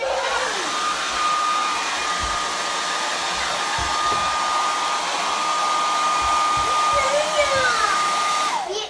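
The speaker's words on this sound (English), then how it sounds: "The last step is to diffuse it." Hair dryer fitted with a diffuser drying curly hair, a steady close whine with a constant tone that holds for about eight seconds before cutting off at the end.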